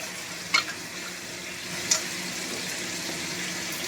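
Panch phoron five-spice seeds fry in oil in a pan alongside pointed gourd, making a soft continuous sizzle with two sharp clinks of a utensil early on.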